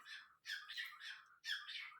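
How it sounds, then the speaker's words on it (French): A pet bird sings and squawks nearby in three bright, shrill bursts of chattering calls, fairly quiet and alone with no voices. "C'est mon oiseau qui chante, désolé."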